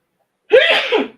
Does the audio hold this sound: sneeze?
yes